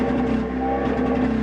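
A Mitsubishi Eclipse engine idles high with a steady, unbroken hum, close by and fairly loud, with no talking.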